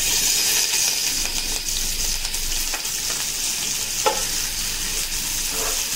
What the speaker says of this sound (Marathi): तांदूळ एकदम अलगद हाताने ढवळायचे आहेत